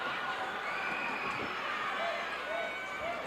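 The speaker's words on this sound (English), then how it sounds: "this crowd is screaming" A 1980 wrestling arena crowd for Gino Hernandez versus Mark Lewin screams and roars in a steady, dense wash of noise, with a commentator talking over it.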